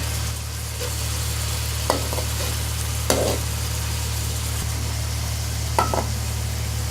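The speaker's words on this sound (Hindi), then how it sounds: "चिकन ने अपना कलर चेंज कर लिया है, इसको हम 1 मिनट के लिए फ्राई करेंगे" Chicken tikka pieces fry in a pan with a steady, even sizzle beneath a constant low hum, broken by a few sharp clinks of a utensil.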